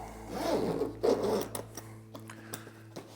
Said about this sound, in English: Go ahead and zip this back up.